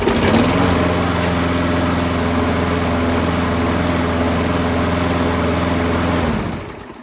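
A small lawn mower engine, brought back after sitting unused for a long time, runs at a steady, loud, buzzing idle close by, then cuts out and winds down near the end.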